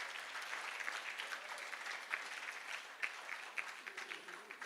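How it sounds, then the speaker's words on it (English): Applause from an audience at an awards dinner, a sustained wash of hand claps at a moderate distance with a few sharper claps standing out, no voices on top. "Let's clap to all NMG team that's here."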